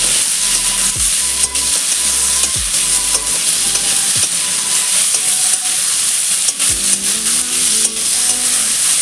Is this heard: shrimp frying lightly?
yes